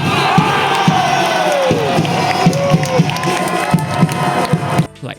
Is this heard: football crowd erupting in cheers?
yes